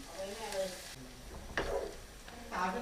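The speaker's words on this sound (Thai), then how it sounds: "กระเทียมที่โขกไว้นะคะลงไปผัด เจียวให้มันหอม" Pounded garlic stir-frying in a pan: a hot, crackling sizzle with bursts of scraping and stirring, rising at intervals, with a faint voice in the background.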